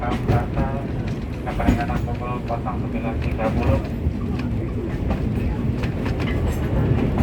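A tourist train runs at Ambarawa station in Indonesia, with a steady rumble and clattering wheels heard close by, plus voices and other noises mixed into the busy sound.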